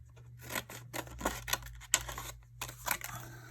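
Scissors snip through paper for card making, a rapid run of short, crisp cuts close by and fairly quiet, with brief pauses between bursts and a low steady hum underneath.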